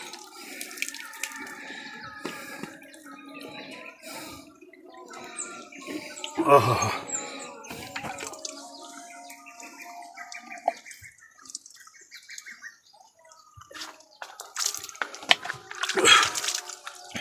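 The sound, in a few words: natural spring water flowing in a village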